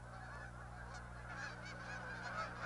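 Migrating geese gather at a wildlife refuge, honking continuously in a dense, distant chorus of overlapping calls.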